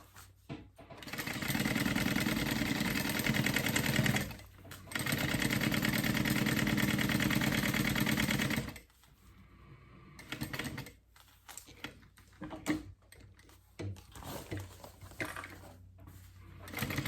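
A sewing machine stitches a fabric fold-over clutch bag in loud, steady whirring runs, with a brief pause near four seconds and a long stop near nine seconds, followed by scattered handling clicks and short bursts.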